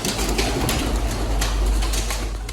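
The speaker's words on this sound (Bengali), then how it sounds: "এখানে একটা দেশি কবুতর আছে" A domestic pigeon coos softly and repeatedly, low and close, over a constant rumbling background hum.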